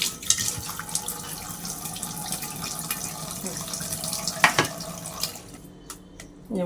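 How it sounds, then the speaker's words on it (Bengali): Tap water runs steadily in a kitchen while ingredients are rinsed for steamed hilsa in mustard, a close continuous stream with small splashes, ending with a brief knock after the flow stops. "এটা ধুয়ে সামান্য একটু জল দিয়ে দিয়ে দিচ্ছি"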